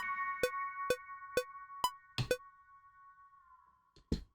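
Electric piano line in a game-style investigation theme: several short staccato notes over a sustained chord, then a held tone that bends downward in pitch near the end, followed by a couple of soft closing hits.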